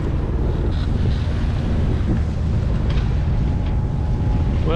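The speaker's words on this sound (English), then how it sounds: "right now the wind is coming from the southeast" Strong southeast wind blows across a boat in the Strait of Georgia as a storm builds and waves rise, with heavy, steady buffeting on the microphone and a low rumble of water and hull throughout.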